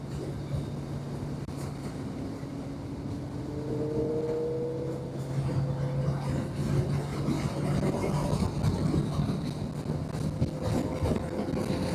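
A train rumbles past with a steady low drone that builds and thickens, carrying faint tonal whines and a rattling clatter.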